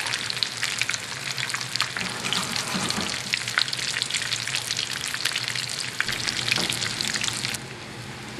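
New England-style clam fritters fry in a 10-inch skillet with a loud, dense, continuous crackling sizzle, heard close up and without voices.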